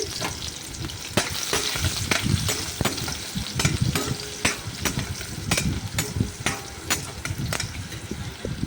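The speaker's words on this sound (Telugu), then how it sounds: "దాంట్లో ముందుగా మనం కట్ చేసి పెట్టుకున్న పచ్చిమిర్చి ఆనియన్స్ ముక్కలు వేసి కొంచెం దానిలో వేగనివ్వాలి" Green chilies and onion pieces fry in a pan with a steady, dense sizzle, punctuated by frequent sharp clicks and scrapes of stirring, close and loud, with no voices.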